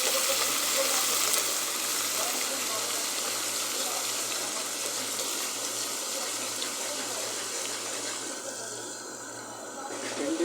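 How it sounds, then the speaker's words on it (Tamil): Garlic frying in a pan while being stirred, cooking for a beetroot kuzhambu, gives a steady, broad sizzle that holds at an even loudness. A low constant hum runs underneath, and the sound fades a little near the end. "பூண்டு பூண்டை போட்டாச்சு கிண்டி விடலாம்"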